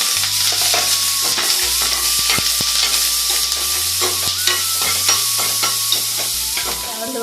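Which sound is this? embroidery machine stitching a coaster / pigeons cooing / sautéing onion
sautéing onion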